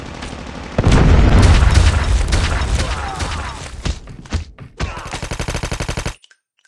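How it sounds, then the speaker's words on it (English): Predator missile strike explosions in the mobile shooter Call of Duty Mobile: a loud, booming blast with heavy rumble, followed by a train of rapid, crackling gunfire bursts before cutting off. "Hostile Predator missile inbound."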